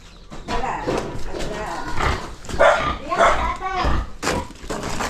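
A dog barks a few times around a rural camp in the Philippines, the barks mixed with close conversation and other voices talking over them.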